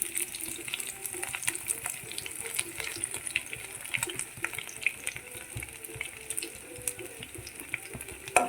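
Curry leaves sizzling in hot oil for a Kerala banana flower thoran: a soft, continuous crackling fry with small irregular pops, fairly faint and steady throughout.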